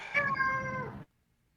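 A pet cat meows once in a drawn-out, wavering call close to the microphone, lasting about a second before falling silent.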